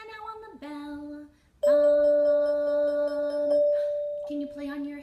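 A resonator bell is struck and rings with a clear, sustained tone that slowly fades, alongside sung or spoken phrases from a music teacher before and after.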